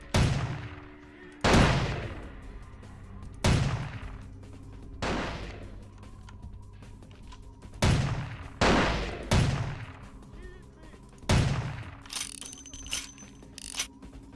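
Seven heavy magnum pistol shots ring out one at a time in Vampire the Masquerade: Bloodlines, loud and booming with long decaying tails and uneven gaps between them, and no talking over them.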